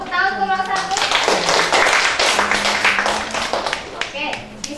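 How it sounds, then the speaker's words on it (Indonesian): A classroom of university students gives a group of classmates a round of clapping during a math microteaching session, a lively burst of many hands that swells and then tapers off, with a teacher's voice speaking over the start. "Tepuk tangan untuk kelompok 1."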